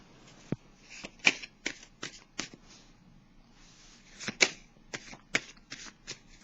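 Tarot cards are shuffled close by in a run of crisp riffles and sharp snaps, with irregular gaps between the bursts.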